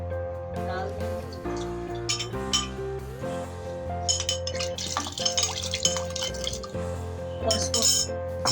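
Water splashes and trickles into a metal pot while making beef nihari, amid clinking of utensils and stirring, busy kitchen sounds throughout.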